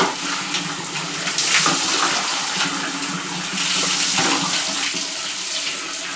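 Water pours and splashes steadily over a head at close range while washing hair, a continuous rushing gush with slight surges, no voices.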